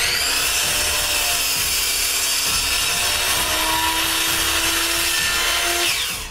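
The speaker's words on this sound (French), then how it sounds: "Comme ma scie anglais coupe pas le morceau au complet, je finis de les couper en scie japonaise." A hand saw cuts through an oak board for a tack box in steady, close rasping strokes that run unbroken for several seconds with no talk.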